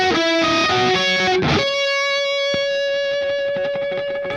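Distorted electric guitar plays the second phrase of the intro, quick picked notes ending on a long sustained high note that rings out, loud and close with effects.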